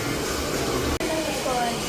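A hair dryer blows steadily on a girl's freshly cut, layered hair during a salon makeover, a continuous close whoosh with one brief cutoff partway through.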